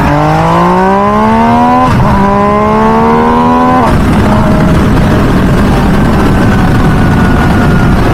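A 2023 MV Agusta Dragster 800RR SCS motorcycle revs hard through the gears, its rising engine note broken by two quick shifts before the throttle closes and the engine winds down into road and wind rush, loud and close.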